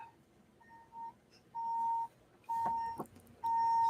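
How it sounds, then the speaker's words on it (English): A vehicle reversing beeper: repeated steady electronic beeps at regular intervals, growing louder, with a few clunks and rattles between them; no talking. "Other than that beeping backing up, please ignore the beeping."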